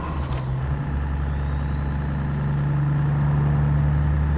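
Heavy truck engine in a truck-driving simulator game, a low steady rumble with a brief clunk at the start as it downshifts into 5 high, then the drone builds slightly louder, no talk.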